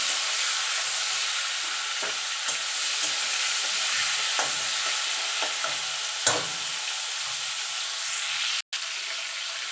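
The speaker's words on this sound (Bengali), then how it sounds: "এবার চিংড়ি মাছটা ভেজে নেব চিংড়ি মাছ খুব বেশি ভাজবেন না" Prawns fry in hot oil in a home kitchen, giving a constant close sizzle broken by occasional soft scrapes and clicks of stirring.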